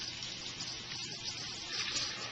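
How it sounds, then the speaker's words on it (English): A hand rinsed under a running kitchen tap while making tomato pie: a steady, close rush of water splashing with slight swells, and no talking. "Let me rinse my hand real quick."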